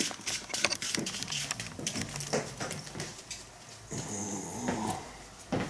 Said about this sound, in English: There's a dog snores in the background.